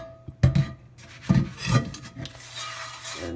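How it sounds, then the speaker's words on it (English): A brush scrubs a cast iron skillet inside and out in a sink, giving bursts of rough rasping strokes in an uneven rhythm with short pauses, close by and without talk. "I'm gonna scrub it inside and out really, really well"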